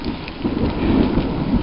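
Loud, close rumble of thunder rolling under steady heavy rain during a storm near Spartanburg, South Carolina, with no speech in the moment.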